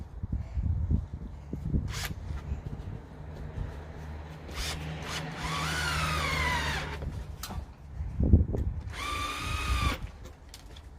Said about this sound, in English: he's going to drill that to the wall